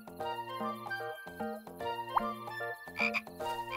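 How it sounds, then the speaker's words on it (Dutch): A cartoon frog croaks in a run of repeated, tonal ribbits with short gaps between them, close and clear, and a brief bright jingle comes in near the end. "En een kikker."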